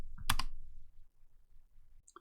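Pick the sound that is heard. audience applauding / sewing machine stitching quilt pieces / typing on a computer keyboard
typing on a computer keyboard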